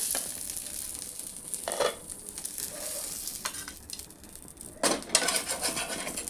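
Carrot patishapta pitha frying in a pan, a steady quiet sizzle with occasional scrapes and clanks of a utensil against the pan.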